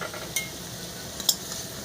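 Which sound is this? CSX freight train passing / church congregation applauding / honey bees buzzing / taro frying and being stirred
taro frying and being stirred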